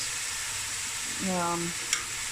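Onions sweating in a pot for mutton curry, a constant soft sizzle under a brief spoken remark, ending with a short sharp clink.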